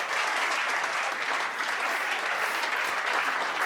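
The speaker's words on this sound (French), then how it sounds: "Applaudissez-vous." Competition participants applauding themselves, a sustained wash of many hands clapping evenly at moderate loudness, with no voices over it.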